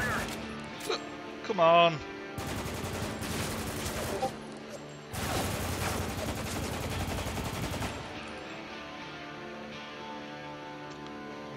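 Sustained automatic gunfire in the shooter video game Spec Ops: The Line, with a short burst early, then long rattling volleys from about two to eight seconds, easing into quieter background noise, while someone speaks briefly.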